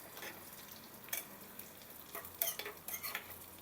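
Vermicelli (semiya) frying in a pan for payasam, a soft sizzle under light scraping and clinks of a spoon stirring, faint and close, with small irregular bursts of stirring.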